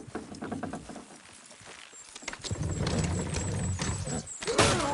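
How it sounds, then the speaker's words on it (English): Horses' hooves clip-clop in Red Dead Redemption 2, a steady patter of several hoofbeats that grows louder and nearer through the second half, with a brief whinny-like sound near the end. "Horses!"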